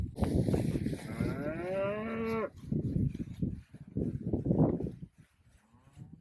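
Calves in a corral give a long, loud moo, followed by a jumble of lower moos and lowing calls nearby, fading toward the end.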